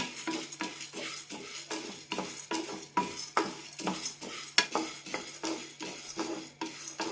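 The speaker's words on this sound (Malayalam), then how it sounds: "ചെറുതായി ചോക്കുന്നവരെ വറുത്തെടുക്കണം" Dry lentils roasting over a medium flame, scraped and stirred in a pan, a repeated rhythm of utensil strokes with a soft crackle beneath, no voices.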